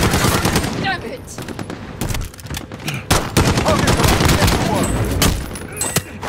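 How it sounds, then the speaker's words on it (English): Sustained automatic machine gun fire from Call of Duty Warzone, dense rapid bursts of gunshots continuing almost without pause, loud and close, with voices shouting over it. "He's got a machine gun."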